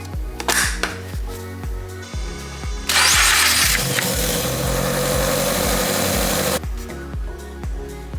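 A Toyota GR86 engine, fitted with a flex fuel kit, cranks with rapid rhythmic clatter, catches and roars loudly for a few seconds, then drops back to a steady idle.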